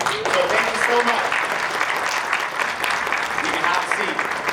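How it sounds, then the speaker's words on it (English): A middle school graduation audience gives a steady round of applause, dense clapping filling the room at moderate loudness with voices mixed in. "we both and all the teachers give you a round of applause"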